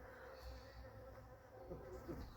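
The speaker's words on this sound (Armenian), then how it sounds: "բայց սրանք մեղր անող մեղուներն են" Honey bees buzz softly and continuously at close range while drinking water, a steady drone with slight fluctuations and no talking.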